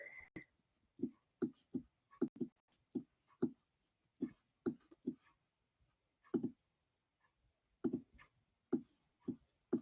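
A pen or marker writes by hand on a surface, making quiet, irregular tapping strokes in short clustered bursts with brief pauses between them, close and faint, with no talking.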